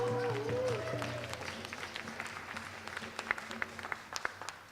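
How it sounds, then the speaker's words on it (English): Scattered clapping from an audience at an Indigenous Peoples' Day celebration at City Hall, starting with a steady swell and breaking into sparse, uneven claps, with a voice lingering briefly underneath. "Yeah, you can applaud that."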